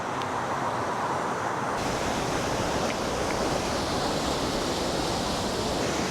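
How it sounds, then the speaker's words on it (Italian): Waterfall in Val di Rabbi, a steady, loud broadband rush of falling water that fills the whole stretch without a break, with no voices. "Incominciamo a avvicinarci alle cascate."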